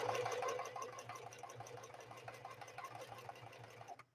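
A Singer 4411 heavy-duty sewing machine stitches a mirror-image blind hem in a quick, even run of needle clatter over a low motor hum, close and fairly quiet, ending abruptly.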